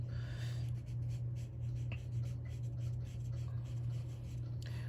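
Copic alcohol marker, shade R17, scratching across paper in steady close strokes, a soft continuous scribbling texture over a low constant hum.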